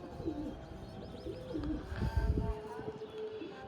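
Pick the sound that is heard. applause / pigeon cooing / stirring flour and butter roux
pigeon cooing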